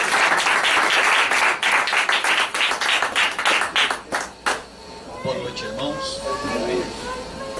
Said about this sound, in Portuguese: E a igreja aplaude a Jesus que ele merece